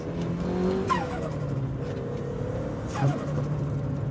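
A turbocharged Mazda Miata climbs a tight uphill bend, its engine droning steadily while the turbo whistles and spools, with rising and falling tonal sweeps and a couple of brief chirps, heard from close by without talk.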